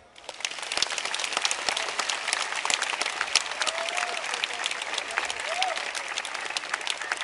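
Sustained, dense audience applause greets the opening of the 22nd International Folklore Festival. Steady clapping from a large crowd fills the whole stretch at an even loudness, with no talk over it.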